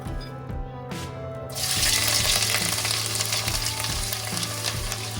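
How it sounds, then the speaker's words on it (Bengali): Sliced onions hit hot mustard oil over a high flame after black cumin, and a quieter crackle bursts into a loud, bright sizzle, with regular spatula scrapes knocking against the pan. "হাই ফ্লেমে রেখে পেঁয়াজটা একটু ভেজে নেব"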